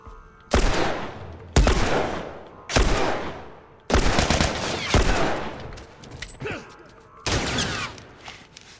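Assault rifle fire in the video game The Last of Us comes as sharp, loud bursts, about six separated volleys each ringing out and decaying, with faint voices in between.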